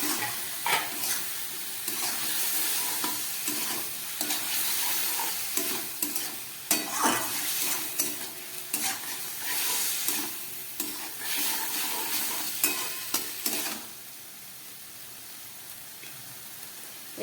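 Boiled pasta stirred through frying coriander and other ingredients in a pan, giving a loud, continuous hiss of sizzling with rhythmic spatula scrapes, close up, before the sound drops to a softer sizzle near the end.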